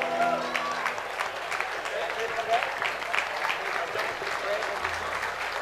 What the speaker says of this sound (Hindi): एक बार जोरदार तालियां और एक प्यारा सा स्टैंडिंग ओवेशन इन तीनों आर्टिस्ट के लिए।